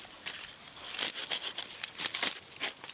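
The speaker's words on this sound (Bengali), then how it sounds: "এবার অপর পিঠে মাছের আঁশ ছাড়িয়ে নেব।" A 3.5 kg silver carp is scaled on its second side, giving quick irregular bursts of close scraping and rasping that come in clusters, fairly faint, with no voices.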